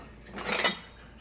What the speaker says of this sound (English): And so now I'm going to stir this up